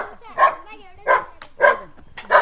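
Four short, loud barks in a loose rhythm, each a quick harmonic burst with brief quiet gaps between.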